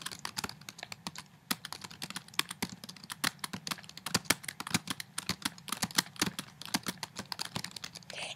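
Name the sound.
typing on a computer keyboard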